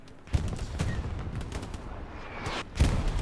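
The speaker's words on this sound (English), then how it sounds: "Artillery is hammering down on the area." Artillery barrage in the World War II shooter Hell Let Loose on Utah Beach, with loud booming impacts at the start and end over a steady rumbling bed of distant fire.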